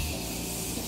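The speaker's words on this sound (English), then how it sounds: "Morphe setting spray" Morphe setting spray misted from a pump bottle during a makeup application, heard as a steady, close, fairly quiet hiss that continues evenly throughout without any talking.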